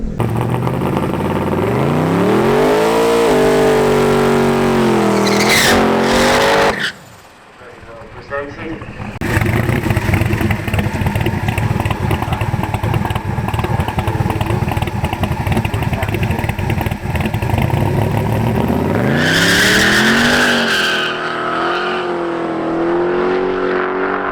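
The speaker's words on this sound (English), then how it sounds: "Quicker run there by Phil, getting a little bit more confidence, better burnout and everything there" A 1941 Willys pickup with a twin-turbo big-block engine making a drag racing run: a loud engine revs and roars through rising gear pulls, briefly cuts out, then screams again at length, with a commentator talking over it.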